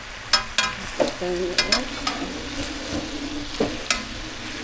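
A pork chop sizzles in a pan for pork bistek, with frequent sharp clinks and scrapes of a utensil against the pan. A steady crackle runs under brief talk from people close by.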